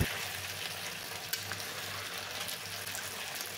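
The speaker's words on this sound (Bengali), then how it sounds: "লেগ পিসগুলো উল্টে পাল্টে কিছুক্ষণ ভেজে নিব।" Chicken leg pieces fry with onions in a pan, giving a soft, steady sizzle over a low hum, with one small clack partway through and no voices.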